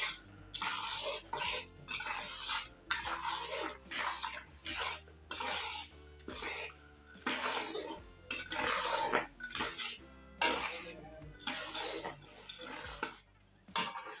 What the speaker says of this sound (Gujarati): હવે આ ડ્રાયફ્રૂટ ને ગુંદરને આપણે સરસ રીતના હલાવી લઈશું